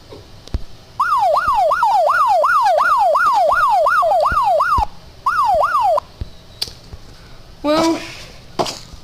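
A loud, close wailing police siren from a video game, cycling rapidly up and down, cutting off briefly and restarting, with sharp clicks and a short burst of other noise later.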